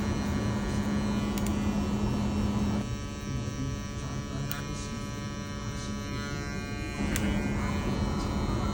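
Electric hair clippers buzzing while blending a burst fade, a steady mid-pitched motor hum with faint scraping strokes, close and continuous, briefly dipping in tone partway through.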